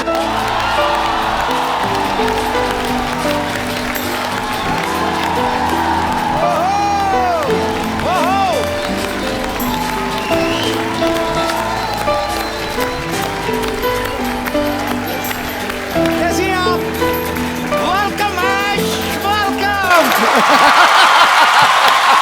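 Studio audience on a Hindi comedy talk show applauds and cheers as Aishwarya Rai Bachchan is welcomed, with steady dense clapping and whoops swelling near the end over music.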